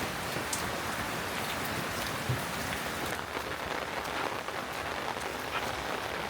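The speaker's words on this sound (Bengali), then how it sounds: "তবে যে পরিমাণ বৃষ্টি হইলো," Heavy rain pours down steadily on a farm, a dense, unbroken hiss of drops with no gaps and no voices over its whole length.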